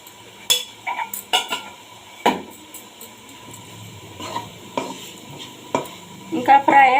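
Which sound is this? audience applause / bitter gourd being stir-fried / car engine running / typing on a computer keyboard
bitter gourd being stir-fried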